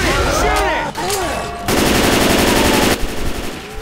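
Automatic weapons fire rapidly in Left 4 Dead 2 while a Tank is attacked during The Parish campaign, with loud, continuous rattling bursts of close gunfire and overlapping shots and no clear talking.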